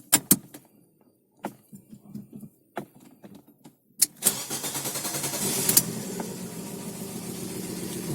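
A petrol Fiat Panda 1.1/1.2 with faulty injectors is started: door and key clicks first, then the starter cranks and the engine catches and settles into a running hum, close and fairly loud.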